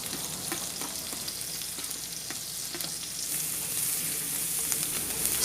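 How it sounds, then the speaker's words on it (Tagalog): Chopped garlic, a whole bulb's worth, toasting in melted butter and oil for pasta, gives a steady close sizzle with occasional stirring clicks, getting a little louder toward the end. "So let's lightly toast our garlic."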